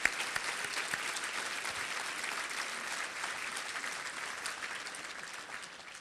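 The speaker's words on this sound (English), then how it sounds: "Let's give them all a round of applause." Audience applause fills an auditorium at the 2012 Seminole County State of the County address. The clapping is dense and sustained, with no talking over it, and it tapers slightly at the end.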